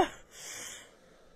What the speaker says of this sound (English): He's still breathing really fucking hard